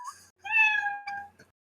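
A domestic cat's meows play from a soundboard: a short chirp, then one long clear meow and two brief trailing mews, heard alone without talk.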